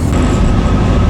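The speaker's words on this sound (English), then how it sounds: "here comes our train and it's 3021" Train 3021 pulls into a station in Northern Ireland, a loud, close, steady rumble of wheels and engine that fills the whole moment.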